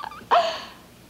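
A single short, sharp dog bark or yip rings out nearby and fades quickly, heard alone in an indoor theatrical stage-play setting.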